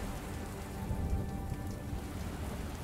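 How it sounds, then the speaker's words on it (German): Heavy rain pouring down in the horror video game Castle of Secrets, a loud steady hiss of drops on surfaces with a low rumble beneath and no talk. "Boah, ist der Regen laut."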